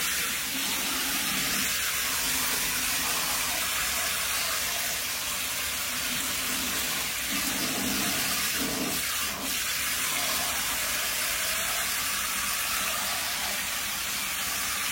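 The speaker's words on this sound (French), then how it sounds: "On va rajouter de l'eau." Water pours steadily into the pot of a Hoya carnosa as a constant rushing hiss, with no break through the whole stretch.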